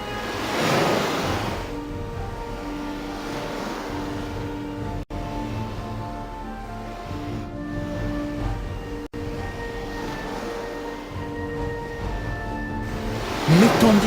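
Ocean waves and current surge continuously, a broad steady wash of surf that swells louder near the end, with no voices over it.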